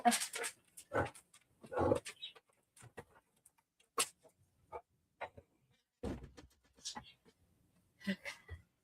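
A dog pants in quick, faint breathy bursts, close by in a quiet room, with brief gaps between the breaths and no talking.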